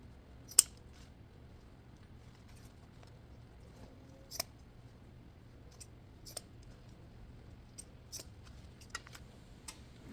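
Scissors snip the tails of a ribbon bow for a Christmas tree topper: a handful of crisp, isolated clicks spaced irregularly across a quiet room, close and fairly soft, with no talking.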